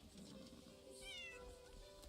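A cat in the video game Crimson Desert gives a single short, rising meow over a quiet game background, fairly close and clear.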